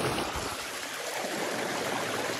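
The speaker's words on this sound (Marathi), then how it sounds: "हक्काचा वॉटरफॉल इथे" A waterfall on a family farm, a dense continuous rush of falling water close by, loud and steady with no voices.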